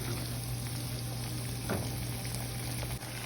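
Beetroot halwa with ghee and cardamom being stirred in a pan, a steady sizzle with soft scraping strokes, close and continuous with no voices.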